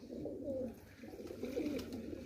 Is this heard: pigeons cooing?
yes